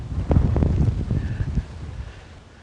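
Wind blows across an outdoor golf course, buffeting the microphone with loud, gusty low rumble that rises early and eases toward the end, with no talking.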